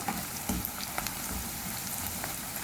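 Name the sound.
green and red chillies frying in oil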